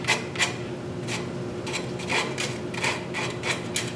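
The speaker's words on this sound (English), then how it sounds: "there's a lot of hand sanding here to make this look really nice" Rhythmic rasping strokes of hand sanding on wood, steady back-and-forth scrapes repeating about twice a second, close and moderately loud with no talking.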